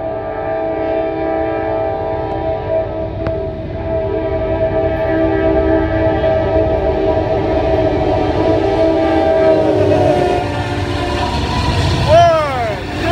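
A northbound train rumbles past close by, with a steady heavy roll and horn tones sustained over it, then a wavering horn blast near the end, and a voice talking faintly underneath.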